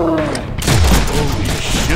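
A gunshot in a Deadpool video game rings out amid loud, busy game sound, with a heavy low thump near the middle, while a voice talks over it.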